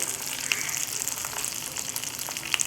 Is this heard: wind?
no